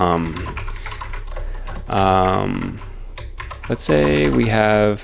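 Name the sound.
typing on a computer keyboard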